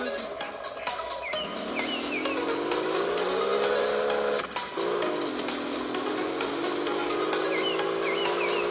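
A racing car engine in the mobile game Car Drive HD revs and shifts through rising and falling tones, a continuous synthetic drone with occasional tire squeal chirps, loud and steady throughout.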